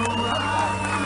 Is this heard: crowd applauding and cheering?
yes